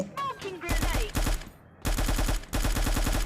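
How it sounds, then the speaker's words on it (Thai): Bursts of rapid automatic fire from a Scar rifle in the shooting game Bullet Angel, loud close rattling sprays in three long strings with brief gaps, a voice talking faintly at the start. "ยิงรัวๆมั่วๆไปก่อนครับ"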